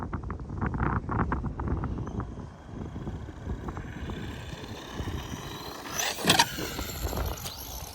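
Traxxas Stampede 2WD brushless RC truck driving through snow, a faint whining motor rising and falling in short bursts amid wind noise, with a louder scuffing burst near the end.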